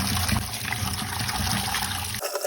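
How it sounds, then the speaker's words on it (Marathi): Cut potato fries rinsed again in fresh water at home, a steady close trickle and slosh of water running continuously for about two seconds before cutting off abruptly. "दुसऱ्या पाण्याने परत धुवायचे त्याला."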